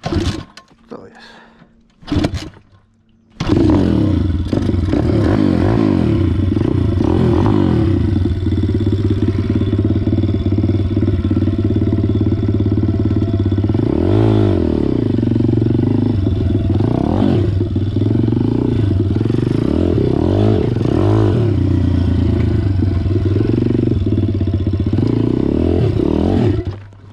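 A pit bike motorcycle engine is kicked over with a few sputters, then catches and runs loud and close, idling roughly with repeated revs rising and falling, while someone talks over it.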